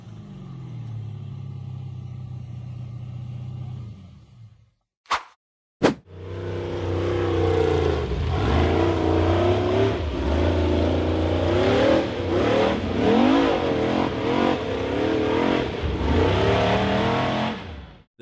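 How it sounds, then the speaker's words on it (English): A red off-road buggy's engine revs hard and loud as it powers up a steep dirt slope in a forest, after a brief quiet break and two sharp knocks, with a steady roaring drone that rises and falls. "The red buggy hit the gas and powered up the treacherous dirt slope in the forest"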